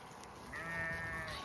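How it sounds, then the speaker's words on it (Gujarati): In a village flock, a sheep gives one clear, moderately close bleat that rises and holds for about a second over a quiet background. "ઘેટા વધારે છે બધા જો"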